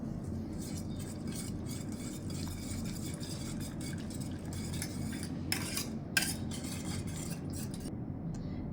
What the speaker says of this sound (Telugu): టొమాటో, కొత్తిమీర అన్నీ వేసుకొని బాగా కలుపుకోవాలి.